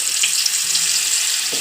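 Potatoes hitting hot oil in a pan after pointed gourd has been fried, for a potato and pointed-gourd curry, give a steady, bright, close sizzle that runs unbroken throughout.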